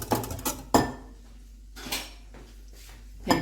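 Yogurt being whisked in a bowl, sparse clinks and scrapes of a utensil against the bowl in short irregular bursts with quiet gaps, close and faint, with no talking.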